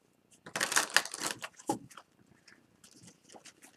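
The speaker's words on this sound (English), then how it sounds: "So let's shuffle the deck and see what the deck has to say." A deck of tarot cards being shuffled at close range, a dense burst of riffling and flapping card noise followed by a few lighter flicks and soft handling sounds.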